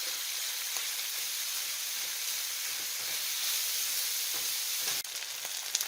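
Sausage fries in a pan with a loud, steady sizzle, close up and continuous, with faint stirring scrapes under the hiss.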